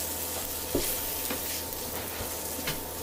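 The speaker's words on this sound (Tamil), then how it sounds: "மசாலா 1 ஸ்பூன் போட்டு கரைக்கிடாமல் நல்லா வதக்கணும்" Masala spice paste sizzling and being stirred in a pan over low flame for a Kerala style fish curry, a steady close hiss with occasional spoon scrapes and no talk.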